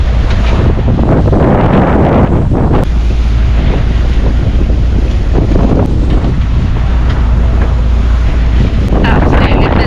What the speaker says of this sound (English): sort of consistent winds of about 26, 27, gusting up to 30